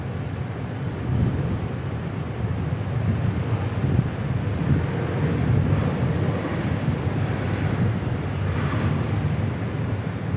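A Southwest Airlines jet departs Dallas Love Field, its engines giving a steady, broadband roar that holds throughout, mixed with wind buffeting the microphone, without a clear rise or fade.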